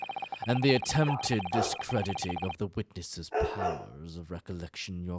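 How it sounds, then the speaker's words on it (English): A dog barks and yips a few times while a person talks over a courtroom video game. "Pardon my dog."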